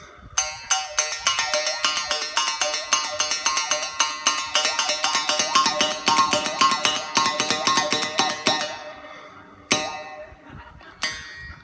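Through a microphone, a mouth bow rings out in a fast, dense stream of plucked twangs with buzzing, shifting overtones. It thins out near the end, then gives one last strong pluck and a couple of soft ones.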